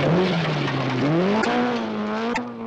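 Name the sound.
rally car driving fast, 1976 Scottish Rally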